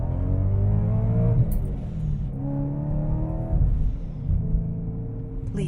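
A car accelerating hard from a stop sign, the engine note climbing through rising revs in successive pulls, loud and close from inside the cabin.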